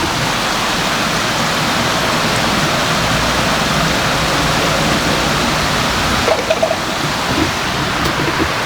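A creek flows steadily near a campsite in the mountains of Cosby, Tennessee, a continuous broadband rush of water, fairly close and even, with a few faint knocks near the end.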